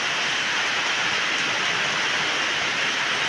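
Heavy rain pours steadily on a hut in a rural setting, a dense, even hiss with no pauses or voices.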